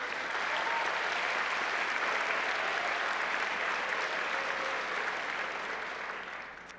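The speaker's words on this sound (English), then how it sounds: "you're clapping because you like what I said" An audience at a university ring premiere claps in a long, sustained ovation, dense and steady for several seconds before easing slightly toward the end, with no speech over it.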